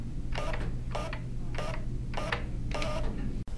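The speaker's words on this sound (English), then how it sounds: "The Whisper Quiet Thermal Printer is perfect for crowded offices or quiet lobbies where noise pollution is a problem." Thermal printer of a printing calculator running in bursts, five short buzzy printing passes at a steady rhythm over a constant low hum, close and fairly loud.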